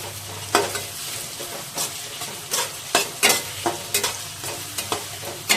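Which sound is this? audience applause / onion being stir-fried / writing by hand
onion being stir-fried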